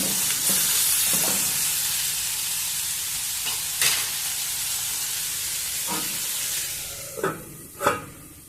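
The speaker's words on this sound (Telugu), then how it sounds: "కొద్దిసేపు సిమ్లోనే ఉంచుకొని మగ్గనిద్దాం" A potato curry with tomato cooks slowly in a pan on a low flame, giving a steady soft hiss and bubbling, with occasional light knocks and stirring scrapes, louder toward the end.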